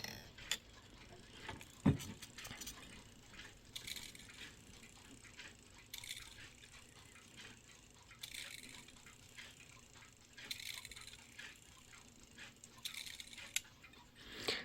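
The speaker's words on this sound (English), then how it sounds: "the little sound of the rack dropping every time" A Seth Thomas Woodbury clock movement, out of its case, lets its rack drop with a sharp metallic click near the start, followed by faint, quiet ticking and small mechanical clicks.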